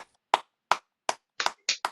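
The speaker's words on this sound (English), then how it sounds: "I'm gonna stop and clap for you." A single person claps hands slowly and deliberately, seven sharp close claps in an uneven rhythm with silence between them, the last few coming closer together.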